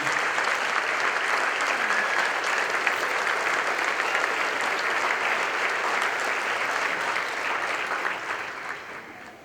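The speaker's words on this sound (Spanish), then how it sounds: "¿Por qué no le das un aplauso al Señor, no al predicador?" A church congregation at a Spanish-language service applauds in a dense, steady roar that holds for about eight seconds before tapering off.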